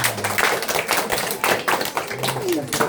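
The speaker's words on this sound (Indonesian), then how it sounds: "Tepuk tangan." Children at a Sunday school gathering in a family home clap their hands in uneven bursts, close and fairly loud, mixed with chatter and voices around them.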